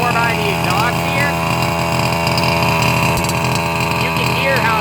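Petrol engine of a 5th scale RC car running lean as its fuel runs out, a steady loud buzzing drone with faint popping heard near the exhaust, and someone talking over it.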